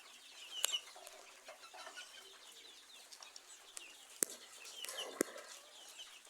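Farm chickens of the Tiger and local deshi breeds cluck and chirp in a quiet barn, with scattered short calls and a few sharper squawks over a low, soft background.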